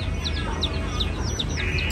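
Chickens cluck and chirp in short, repeated bursts over steady low background noise, moderately close, with no clear speech.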